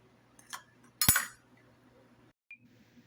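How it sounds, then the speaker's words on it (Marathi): A spoon clinks against a bowl while curd is stirred for jowar dhokla batter, a couple of sharp close metallic taps followed by a faint tick, with no talking. "दही आपल्याला व्यवस्थित मिक्स करून घ्यायचंय"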